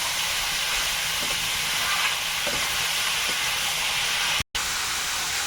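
Garlic and ash gourd frying in a pan, giving a steady, close sizzle and hiss that holds level throughout with only small stirring shifts.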